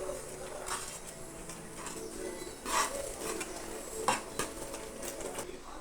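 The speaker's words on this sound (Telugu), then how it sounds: "ఇప్పుడు ఇందులోకి సూజీ రవ్వ వేసేసుకొని బాగా దగ్గరకు వచ్చేంత వరకు ఇలా కలుపుతూ ఉడికించుకోవాలన్నమాట" Semolina (suji) dough being stirred in a pan as it cooks for vada, with soft scraping and occasional clinks of a utensil against the pan, moderately close and steady, with no talking.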